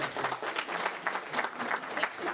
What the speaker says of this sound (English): if you could hold the applause, I would appreciate that